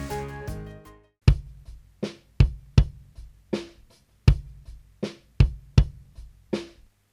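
Kick drum track recorded live about twelve years ago, heard raw with EQ bypassed: a run of boomy, loosely ringing thumps in a steady pattern, each with a long low decay, preceded by a brief tonal fragment.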